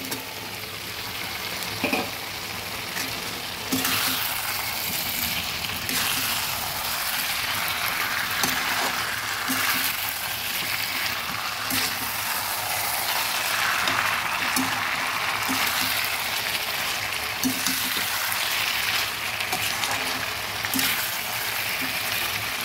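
Desi chicken curry with fried potato and papaya is stirred in a pan, a long stretch of bubbling sizzle broken by repeated scraping and clattering stirs.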